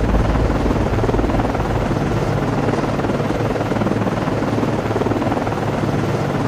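An ASW helicopter lifts off from a Perry-class frigate, USS Nicholas FFG-47, in the Cold Waters naval game, a loud continuous rotor and turbine roar holding steady throughout.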